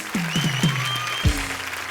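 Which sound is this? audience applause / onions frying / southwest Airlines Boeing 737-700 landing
audience applause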